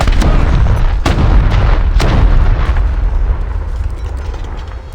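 Loud, continuous roar of a missile launch toward a submarine, with sharp blasts near the start and around one and two seconds, then a sustained rushing rumble that slowly fades.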